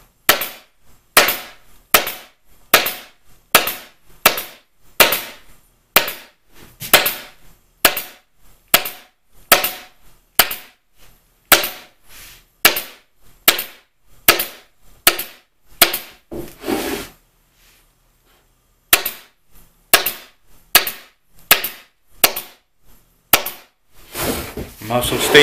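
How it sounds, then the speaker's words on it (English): A staple gun fires repeatedly as upholstery fabric is stapled onto a wooden step cornice: about thirty sharp, loud snaps in a quick, fairly regular rhythm, with a short pause before a final burst. "I'm also stapling around the returns."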